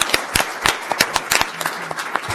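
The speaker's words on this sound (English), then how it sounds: "one final round of applause for Stephen and Joe Dooley and Michael Caine" Scattered clapping from a small audience thanking hosts at the close of an evening event, sharp individual claps at an irregular rhythm, fairly close and thinning out over a couple of seconds.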